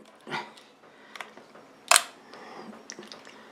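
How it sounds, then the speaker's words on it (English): A Ricoh KR-10 Super SLR fires with its mirror flipping up and the shutter held open on a long exposure: one sharp, loud mechanical snap stands out mid-clip among fainter clicks and handling noise, close up, without speech. "So that goes on, the mirror comes up."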